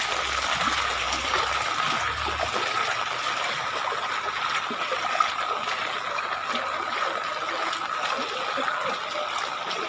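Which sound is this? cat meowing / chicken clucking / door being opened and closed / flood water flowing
flood water flowing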